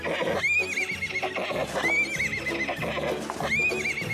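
A horse neighs three times in loud, shrill whinnies spaced evenly apart, with hoof clip-clops and bustle underneath.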